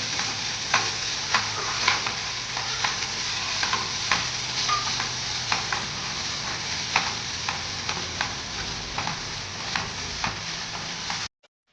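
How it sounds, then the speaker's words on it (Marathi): A tomato roasts with salt in a pan for chutney, a constant close sizzle with regular scraping and stirring clicks, running evenly until it cuts off abruptly at the end, no voices. "तो लवकर भाजत नाही म्हणून मी थोडस मीठ टाकते"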